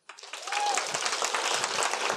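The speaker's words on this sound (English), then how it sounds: "Please help me give a warm round of my applause to my good friend and colleague, David Fresilli." Audience applause welcoming a speaker to the stage at a health and wellness talk, a dense burst of clapping that starts abruptly and stays loud and steady, with faint murmurs underneath.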